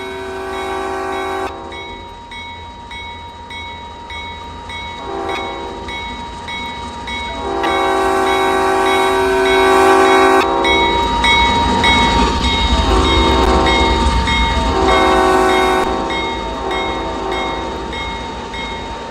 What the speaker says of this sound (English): Nice horn show from the engineer, by the way.